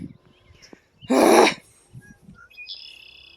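A black bird with red and yellow markings gives a single loud, harsh call in the open, with fainter chirps and a thin high whistle around it.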